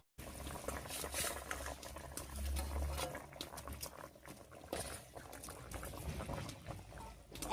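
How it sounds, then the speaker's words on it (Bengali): A pot of spiced curry broth for a river-fish and bitter gourd jhol bubbles at a boil, with a soft, continuous patter and gurgle close by and no talking. "রান্নায় বড় উঠে গেছে, এবারে ভেজে রাখা মাছ আর উচ্ছেটা দিয়ে দেব"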